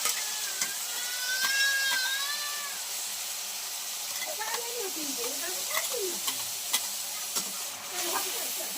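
Onions and spices frying in a pan for a mushroom curry, a steady sizzle under scraping stirs with scattered clinks; a faint whistling tone drifts through the start.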